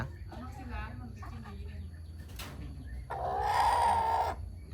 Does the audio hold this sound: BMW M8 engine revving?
no